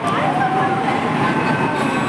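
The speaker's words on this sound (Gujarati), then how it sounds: "હવે અમે જઈએ મેટ્રો ટ્રેનમાં" A metro train rumbles steadily with a continuous wheel-and-motor roar and a faint tonal whine, heard loud and close from on board or right beside the carriages.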